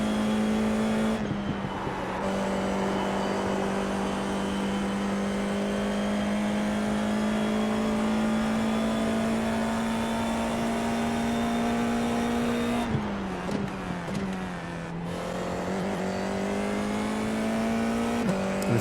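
Formula 4 race cars lap the Zolder circuit in a VR racing game, a sustained high-pitched engine drone with strong harmonics, briefly dipping and shifting pitch for gear changes before resuming.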